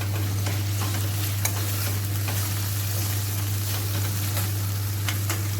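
Tomatoes frying in a pan for a homemade aloo capsicum sabzi, a continuous close sizzle broken by faint scraping taps of a stirring spoon, with a steady low hum beneath.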